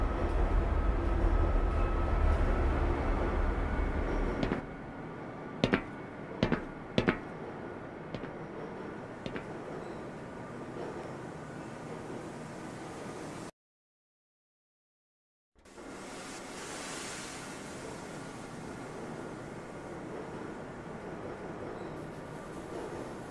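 A Black Mesa tram in Half-Life 2 rolls along its rails with a steady low rumble. A few sharp clanks land early, then the sound cuts to silence for about two seconds and resumes as a smoother hum.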